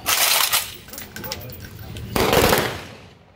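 A police guard of honour fires a rifle volley at a state funeral for a freedom fighter and former army member; sharp, loud bursts ring out near the start and again just past the midpoint, with commands shouted over them.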